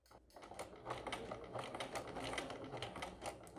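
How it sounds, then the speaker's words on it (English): A sewing machine stitches along the bottom edge of a crossbody bag with a steady, rapid mechanical clatter. It runs continuously at close range and fairly faint level. "I'll start at one of the bottom corners and then just sew along the bottom edge and then up one edge"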